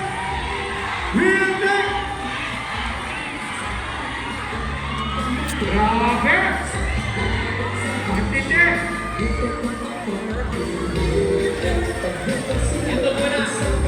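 A crowd at a motovlog gathering in Cabanatuan City, Nueva Ecija, shouting and cheering continuously. Loud overlapping yells and whoops mix with excited voices calling out over the noise.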